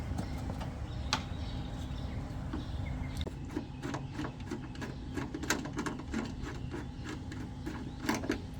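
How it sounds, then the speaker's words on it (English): A rivet tool clamps an M8 rivet onto a Jeep rear tube fender, giving a run of sharp mechanical clicks and ratcheting snaps, close and moderately loud, denser in the second half over a steady background hum. "Let's get our rivet tool. You just slide on the M8 with the arms open."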